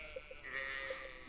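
A ram in the Stardew Valley farming game lets out a short, faint bleat, a brief nasal wavering cry lasting about a second with nothing else around it.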